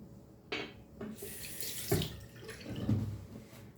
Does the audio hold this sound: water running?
yes